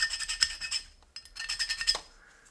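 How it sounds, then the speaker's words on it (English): Metal file worked over a diecast Hot Wheels custom van A-100, giving a series of quick, faint rasping strokes close by with a brief pause midway. "just do a little once over with the file"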